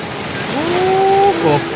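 Heavy rain pours down during a storm in a steady, dense hiss, with a brief rising tonal sound cutting through it partway.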